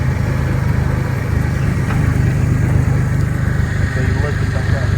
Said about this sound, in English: Park the truck in this little spot here.